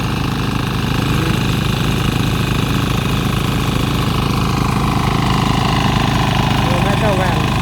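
Small Trâu Vàng diesel mini tiller engine running steadily and close by, a continuous rhythmic chugging drone with no pauses, alongside a lighter second machine working a rice field.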